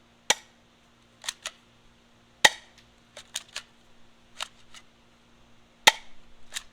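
A Hikewintoy gel blaster fires several sharp, dry snapping shots at irregular intervals, each a crisp crack followed by fainter mechanical clicks, close and clear over a quiet background.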